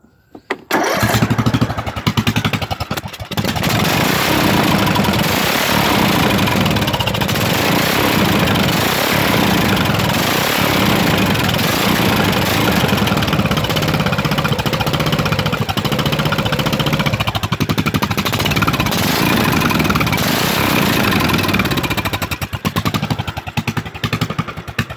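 Muffler-less Craftsman small engine roaring loud and raw right up close, starting abruptly and holding a harsh, crackling run throughout with slight throttle swells.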